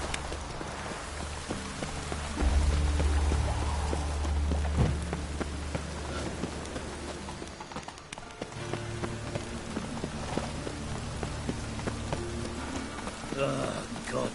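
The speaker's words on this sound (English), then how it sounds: "Rain's no different here." Steady rain pours down in Witcher 3: Wild Hunt, a dense even patter on surfaces throughout, with a deep low rumble swelling briefly early on and a voice speaking faintly over the downpour.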